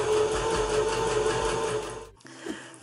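A sewing machine stitches the neckline of a handmade top, its motor whirring steadily in a fast, even buzz before stopping briefly and starting again with a shorter burst, close and alone.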